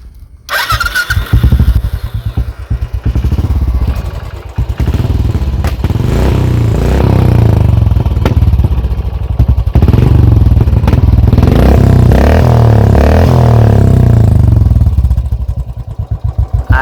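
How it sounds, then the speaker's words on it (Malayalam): A 2015 Royal Enfield Classic 500 starts up and idles close by, its exhaust giving a loud, deep, thumping single-cylinder rhythm with a few revs, then settling before cutting off. "ഇനി നമുക്ക് ലാസ്റ്റായിട്ട് നമുക്ക് കാണിക്കാനുള്ളതാണ് വണ്ടിയുടെ എക്സോസ്റ്റ് സൗണ്ട്."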